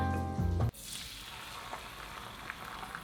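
Scrambled eggs sizzle and fry in a pan after a short burst of music cuts off, a steady soft crackle with faint scraping ticks as they are stirred.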